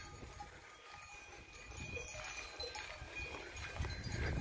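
A flock of sheep moving across a highland pasture with a motorized shepherd, giving a faint, continuous shuffling and rustling with possible cowbell clinks, steady and somewhat distant, no speech.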